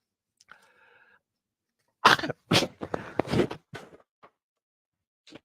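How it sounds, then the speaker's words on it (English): A sharp, forceful nose-blowing burst followed by several rough, snorting blows and sniffs, close by, with quiet gaps around them. "Sorry, I had to blow my nose."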